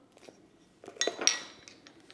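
Parsley flakes and Parmesan cheese mixed in a bowl with a utensil, a few light clinks and scrapes, building to a brief busier stir before fading, no voices.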